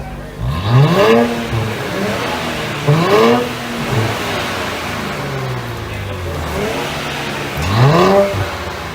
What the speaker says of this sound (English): the active exhaust sounds very good